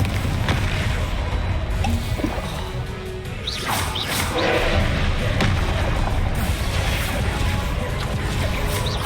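Confringo spell blasts in the Hogwarts Legacy video game crash and whoosh repeatedly over a dense, loud rumble of spell effects, with shouted voices in the mix.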